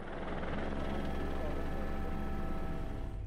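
A helicopter flies over Arctic snow during a polar bear research mission, its rotor chop and engine roar loud and steady throughout, filling the whole clip without a break.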